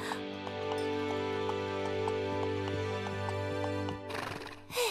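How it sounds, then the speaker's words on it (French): A horse in a Polly Pocket cartoon gives a loud whinny over steady background music, ending in a short burst of galloping hoofbeats. "Maintenant, Shani, j'espère que tu es prête à galoper un peu"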